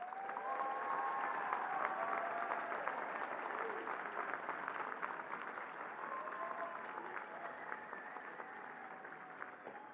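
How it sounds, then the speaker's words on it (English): Graduates at a Brazosport College commencement applaud their family members, a sustained round of clapping from a large crowd heard at moderate distance, steady for the full stretch with some crowd murmur mixed in. "Graduates, let's give your family members a big round of applause."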